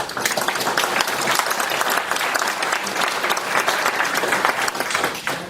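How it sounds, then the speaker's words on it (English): An audience at a Bronx technology start-up summit applauds its panelists: dense, loud, continuous clapping from a crowded room with no talking over it. "let's give them a round of applause"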